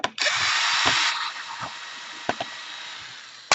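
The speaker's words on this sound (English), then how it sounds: "you have to unscrew everything" A power screwdriver whirs steadily for about a second and then winds down while removing screws from the black case of an Asus K73e laptop, followed by a few sharp clicks of handling up close.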